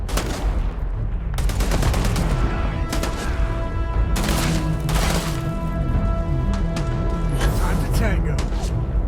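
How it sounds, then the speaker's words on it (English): Sci-fi gunfire in the game Starfield: rapid, close bursts of shots crackle continuously over a dense, loud battle mix, with voices shouting in the fray. "Just shoot everything!"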